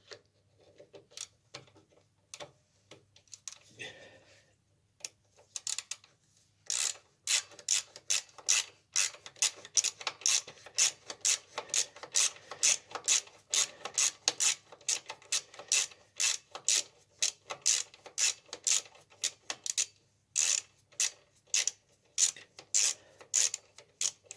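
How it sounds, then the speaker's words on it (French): A 12 mm ratchet wrench turns a bolt during a gear selector replacement on a Royal Enfield 350 Classic motorcycle, giving a long run of close, crisp, rapid pawl clicks in steady bursts after a few softer scrapes at the start. "On rappelle avec la clé de 12."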